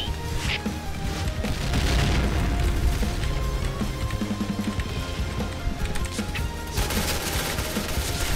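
Rapid gunfire from the online shooter Point Blank, dense bursts of shots over game music and effects, loud and continuous throughout with no speech.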